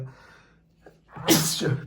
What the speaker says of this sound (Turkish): Hapşırabilirim her an özür dilerim.